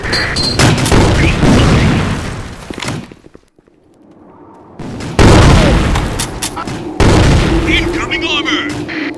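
In the tactical shooter Sandstorm, heavy explosions and bursts of gunfire roll loudly, broken by a brief lull, then more booming blasts and shots; voices call out amid the combat.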